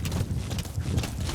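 D-Horse, the horse from Metal Gear Solid 5, gallops with quick, rhythmic hoofbeats that pound in close and fairly loud, with no voice over them.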